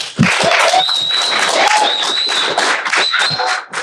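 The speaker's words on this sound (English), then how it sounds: "Clap." Live podcast audience in Clearwater, Florida clapping steadily for a few seconds, a dense crowd of hands with scattered cheers and voices mixed in.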